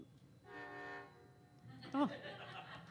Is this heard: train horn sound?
yes